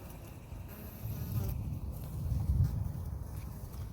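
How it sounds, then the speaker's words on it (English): A low, fluttering buzz of honey bees swells and fades close by, with faint rustling in the background and no talking. "We got nice 2 frames of bees"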